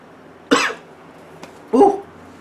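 A man coughs twice, each a short harsh burst, about a second apart, close and fairly loud against quiet background.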